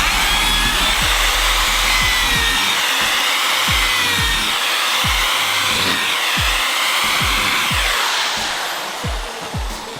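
Power drill whining steadily and loudly as it bores through wooden yurt trellis pieces, with a string of short knocking thumps as the bit and pieces are shifted, the motor easing off near the end.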